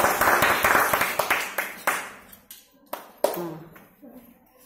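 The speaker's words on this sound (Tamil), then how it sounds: "கைத்தட்டினதான் எல்லாத்துக்கும் ஆசையா இருக்கும்." Children in a seventh-grade classroom clap together in a burst of loud claps that thins into a few scattered claps as it fades, with a voice speaking near the end.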